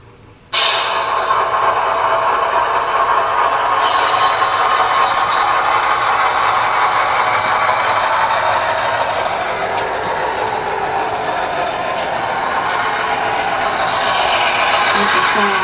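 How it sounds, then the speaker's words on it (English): A small train engine runs steadily nearby with mechanical rattling and a constant hum, loud and continuous throughout. "I'll bring you back for a little run by with the new engine"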